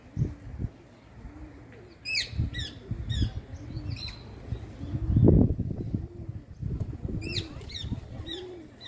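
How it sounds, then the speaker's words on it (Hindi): A flock of parrots squawks in trees around a temple, with several sharp, harsh calls in quick clusters over a soft, repeated low cooing from nearby birds, all moderately close in an open outdoor setting. "बहुत संख्या में तोते यहाँ पर पाए जाते हैं और इन वृक्षों पर दिन रात चहचहाहट करते हैं"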